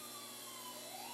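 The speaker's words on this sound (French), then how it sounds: "c'est l'ambulance qui faisait ça" An ambulance siren sweeps faintly through the background, its wailing tone drifting and rising at a distance over steady noise, with no voices present.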